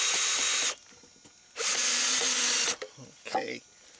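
A power drill drives a screw into a board used to shore up a concrete repair, with two loud, close whirring bursts, the second longer, followed by a brief clatter of handling.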